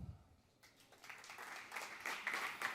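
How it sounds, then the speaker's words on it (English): Audience applause at a Latin American and Caribbean startup showcase, a faint wash of clapping that swells gradually and stays steady to the end. "Big applause for Ricardo, for Ricky."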